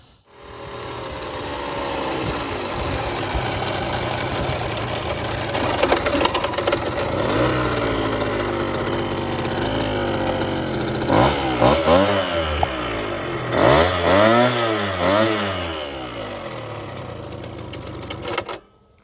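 Small engine of a Bike Bug trike running on a test ride, a loud continuous buzzing drone that rises and falls in pitch as it revs and slows, with no talking over it.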